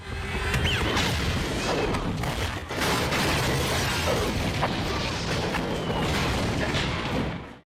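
Loud, sustained roar of a car exploding in an action film, with crashing debris and dense rumbling throughout and a brief dip midway before the blast noise resumes at full force.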